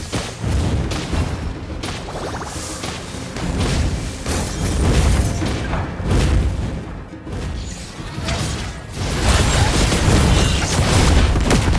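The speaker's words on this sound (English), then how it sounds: "Your team destroyed a turret." Heavy booms and bursts from a turret being destroyed in the Mobile Legends game, loud repeated impacts amid busy battle noise throughout.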